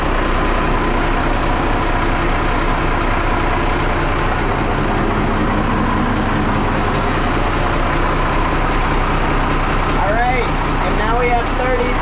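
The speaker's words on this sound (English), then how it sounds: "Alright, we got the port side engine running." A boat's port-side engine idles with a steady low rumble that runs throughout, loud and continuous, with someone talking over it.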